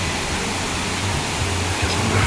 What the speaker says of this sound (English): this is the waterfall. There's a fair bit of water in it at the moment.